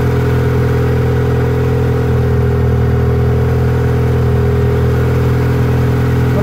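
A car engine idles steadily during a vacuum leak test, its low, continuous hum holding close and even, with only a slight rise in revs and no voices.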